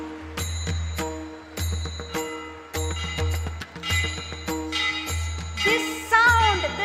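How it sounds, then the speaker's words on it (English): A bell rung repeatedly at a felicitation ceremony, with bright metallic strikes in a steady rhythm that ring out and decay, growing denser and more clangorous toward the end, loud and close. "This sound, this warning bell, this ringing bell is strengthening the democratic fabric of our country"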